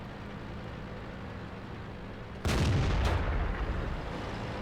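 A KV-5 heavy tank's gun fires in World of Tanks, one loud booming blast that jumps out of a low engine rumble, followed by a second sharp crack and a sustained rumbling tail.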